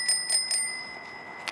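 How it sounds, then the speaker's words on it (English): A bicycle bell on a woman's road bike with clipless pedals rings in three quick, bright dings close to the microphone, then a short pause and a fainter fourth ring at the end. "I do like the bell."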